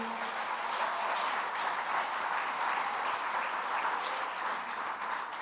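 A church congregation at a celebration service claps steadily and loudly, a dense wash of applause that holds at an even level throughout with no voices standing out.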